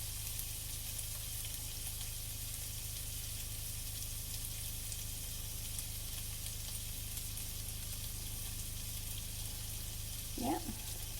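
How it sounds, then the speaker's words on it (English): Sausage frying in a pan, a steady broadband sizzle running evenly throughout with a brief clink or stir near the end, no talking. "Oh, my sausage getting really brown there. Let's see, I better stir it up."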